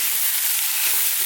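Sliced red onions fry over high heat, giving a steady, close sizzle with stirring and no talk, lasting barely over a second.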